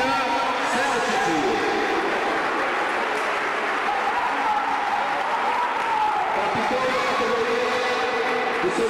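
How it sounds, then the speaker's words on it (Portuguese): Crowd applause for Celtic, the runner-up team at an under-9 youth futsal final ceremony. The clapping is steady and dense for the whole stretch, with voices and tonal sounds mixed over it. "Uma salva de palmas para a equipe vice-campeã Celtic."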